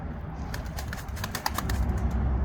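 Young tumbler pigeons flap their wings in a quick burst of soft fluttering over a constant low rumble of background noise.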